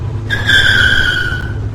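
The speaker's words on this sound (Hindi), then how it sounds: "आर्यन ने अपनी पूरी ताकत से ब्रेक पैडल पर पैर दे मारा" A truck braking hard as its tires skid, heard as a sharp squealing screech that starts suddenly, holds for about a second and fades, over a low rumbling bed, as a story sound effect.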